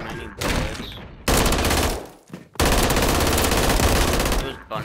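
Sustained automatic rifle fire from a BP50 in Modern Warfare 3, loud and close, in long continuous bursts separated by brief gaps, with no talking over it.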